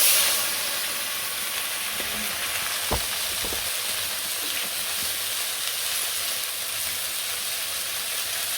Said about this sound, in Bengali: এটা ভাজা হয়ে গেছে জল দিয়ে দিই